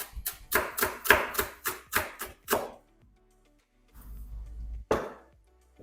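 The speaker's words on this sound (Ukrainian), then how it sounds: "У мене якраз сьогодні день, коли нарізаю зелену цибульку" Rapid knife chops through green onions on a cutting board, about eight quick crisp strikes in a row, then a pause, a low rustle and one final chop, close up.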